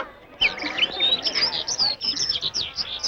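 Caged birds kept for sale chirp and tweet busily up close, with overlapping high calls in a dense, continuous chorus.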